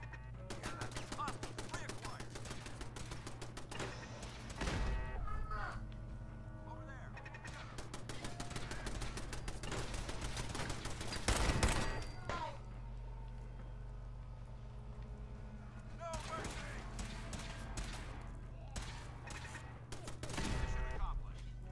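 Turret gunfire in Fallout 4, with rapid, dense bursts of shots repeating across a long stretch over a steady low drone, loudest in a few heavier volleys.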